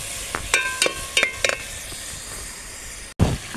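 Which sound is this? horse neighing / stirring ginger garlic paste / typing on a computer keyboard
stirring ginger garlic paste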